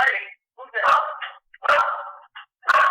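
A dog barks in several loud, close bursts spaced about a second apart, with a person talking over and between the barks.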